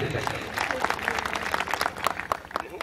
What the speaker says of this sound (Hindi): एक बार इनके लिए भी तालियां बजा दीजिए।